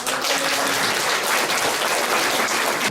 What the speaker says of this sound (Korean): 박수로 대표님 모시겠습니다